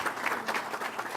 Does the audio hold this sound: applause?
yes